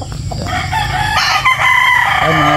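A gamefowl rooster crows loudly and close by, one drawn-out cock-a-doodle-doo call with harmonic, wavering tone, set against steady background noise in a breeder's yard.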